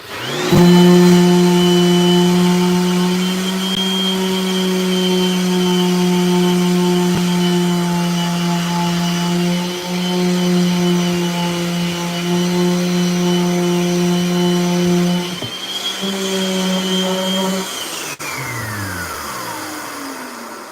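A skateboard shop sanding machine with a dust vacuum attached runs as a loud, steady motor whine with a strong hum, holding for about fifteen seconds before dipping and winding down to silence.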